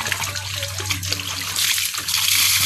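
Water from a well hand pump pours and splashes onto someone bathing. The gushing spatter runs continuously and grows louder and brighter toward the end, with no talk.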